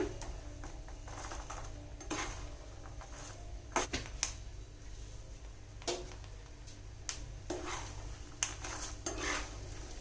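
Tempering spices for tamarind pulihora fry in a pan over high flame, giving a steady hiss broken by sharp crackles and pops that come in scattered bursts, with no talking.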